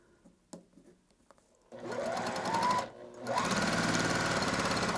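A sewing machine stitches a quilt block, its fast steady whirring hum starting after a few quiet taps, pausing briefly, then resuming loud and continuous, close by.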